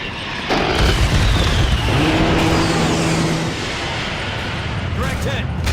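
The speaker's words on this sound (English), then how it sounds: "The air corridor is clear for our A-10s to commence gun runs." A-10 gun run strafing targets in a video game, a sudden loud droning burst of cannon fire with jet engine roar, voices talking over the din as it fades to a steadier rumble.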